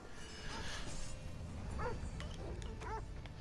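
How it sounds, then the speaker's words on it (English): A dog in the video game Assassin's Creed Odyssey yips and barks a few times over a steady game soundscape, fairly faint and mid-distance. "I don't wanna kill the dog."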